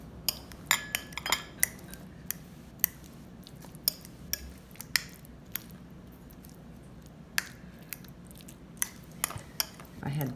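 Avocado is mashed in a bowl with a fork for guacamole, giving a series of sharp clinks and taps against the dish at uneven intervals over soft squishing, close by.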